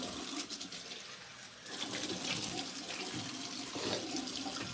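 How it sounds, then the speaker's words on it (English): Cold water running from a tap for a rinse, a steady hissing splash that thins briefly then flows on more fully, close and moderately loud with no talking. "Cold water rinse right now."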